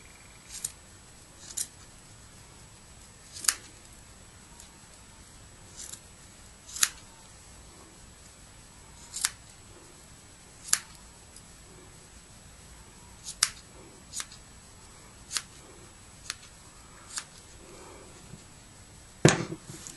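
Scissors snip the fiber strands of a handmade bead bracelet: about a dozen short, crisp, close cuts spaced irregularly over quiet background, with no talking.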